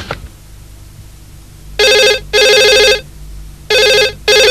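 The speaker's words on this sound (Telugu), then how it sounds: "ఏయ్ నరసింహం, నా గురించి ఆ బొంబాయి వాడు ఫోన్ చేస్తున్నాడు" An old-style telephone rings loudly and nearby in four electronic bursts, two short and two long, separated by quiet gaps, with no one speaking.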